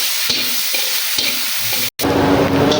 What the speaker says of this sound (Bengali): পেঁয়াজ একটু ভালো করে ভেজে নেব লাল লাল করে